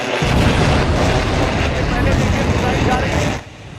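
Iranian missile strike on an Israeli air-defense system, heard as a sustained, loud, rumbling blast roar lasting several seconds before cutting off abruptly into quieter background.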